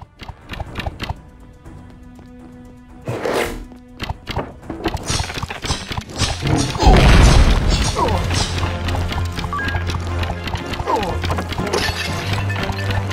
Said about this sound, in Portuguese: joguei a bomba sem nem ver